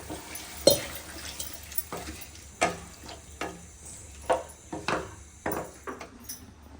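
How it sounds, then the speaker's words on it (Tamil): Vegetables for a white kurma sautéing in a pan on the stove, with a low background sizzle broken by a steady series of sharp scraping stir strokes about once a second, close and fairly quiet. "நல்லா காய் சூப்பரா வதங்குது"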